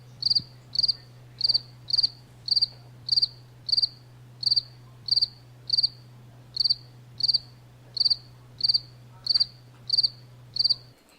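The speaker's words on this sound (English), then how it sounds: "Did somebody say crickets?" Cricket chirps repeat steadily in evenly spaced bursts, about fourteen pulses in eleven seconds, loud and close over a constant low hum, with no talking.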